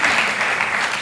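Sustained applause from a church congregation fills a short burst, dense and steady, with no voices standing out above the clapping.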